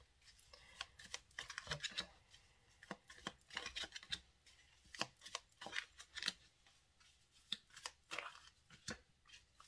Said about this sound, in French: vous pouvez passer le moment où je pose les cartes